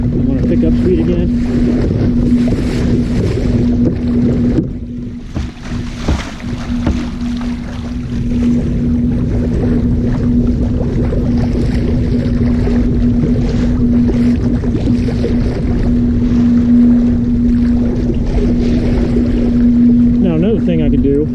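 Bixpy Jet electric motor driving a Hobie PA 14 kayak across open water at speed, a steady whining motor tone running throughout with wind buffeting the microphone and water rushing past the hull.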